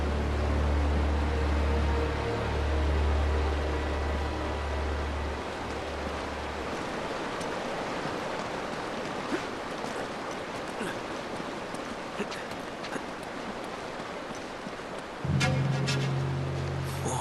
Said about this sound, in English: Sounds like a waterfall.